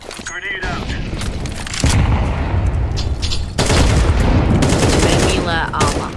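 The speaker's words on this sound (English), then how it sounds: "Throwing fire. Grenade out." Grenade blasts and rapid gunfire in the Counter-Strike video game, heavy booming bursts and dense automatic shooting that swell in two loud surges, with a caster's voice talking over the action.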